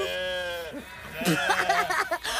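A long, wavering sheep bleat rings out close by, then people talk over further bleats and rustling.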